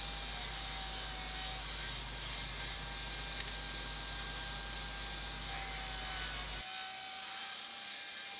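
Wooden ice cream box cone pieces being sawn to 55mm lengths, a steady continuous rasping cut with a constant machine hum beneath, close and unbroken until it cuts off abruptly near the end.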